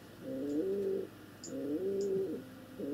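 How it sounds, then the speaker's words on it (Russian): Pigeons cooing up close, three rounds of soft, low, rolling coos repeating at a steady rhythm, with a few faint high chirps in between and no talking. "Ну ладно, Сергей, я сейчас займусь голубями."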